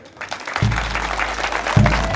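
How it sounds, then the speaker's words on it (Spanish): Crowd applause breaks out at an outdoor road handover ceremony in Bolivia, a dense, steady clatter of many hands that swells after a quiet start and carries on to the end, with brief low thumps beneath it. "Fuerte el aplauso."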